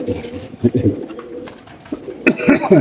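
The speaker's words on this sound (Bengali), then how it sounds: "এখানে কবুতর আছে" Pigeons coo in short soft bursts at a pigeon farm, heard close under a man's speech.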